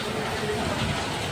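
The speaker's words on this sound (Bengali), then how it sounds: "আর বাইরে প্রচুর বৃষ্টি হচ্ছে বলে অনেক সাউন্ড হচ্ছে" Heavy rain pours outside in a dense, unbroken hiss that fills the whole short stretch at an even loudness, with no clear voices on top.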